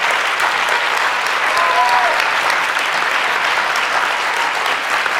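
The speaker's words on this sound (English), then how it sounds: "let's give them a round of applause again" Steady, dense applause from a church congregation honoring its singers, filling the space continuously for the whole stretch at an even, loud level, with a faint murmur of the crowd beneath.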